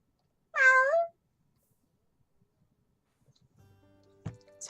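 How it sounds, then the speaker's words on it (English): A house cat gives a single clear, loud meow lasting about half a second, followed by quiet and then faint scattered background noises and a short knock near the end. "my cat's crying a little"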